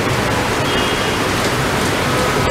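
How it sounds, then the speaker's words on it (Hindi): Continuous heavy rain falling outdoors on MI Road in Jaipur during the monsoon, a dense steady hiss of drops hitting surfaces with no pauses, loud and close, no voices. "यहाँ पे कंटिन्यू बरसात हो रही है"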